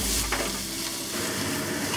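Chicken and ginger stir-frying in a pan for a Chinese chicken and zucchini dish, with steady close sizzling and stirring scrapes throughout and no talk.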